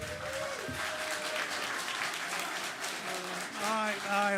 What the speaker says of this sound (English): hold your applause, please